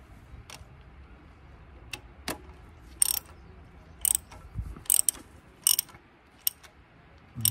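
Ratchet wrench tightening a part during a transmission service on a 2013 Dodge Dart 1.4 Turbo, heard as short separate clicking bursts at close range over a quiet background, with no talk.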